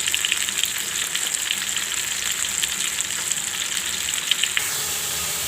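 Tilapia fish frying with spices in hot oil, a dense, even sizzle and crackle heard close up throughout, easing slightly near the end.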